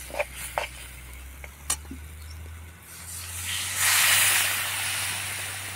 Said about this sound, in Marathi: तर त्यामध्ये आता टाकायचं आहे पाणी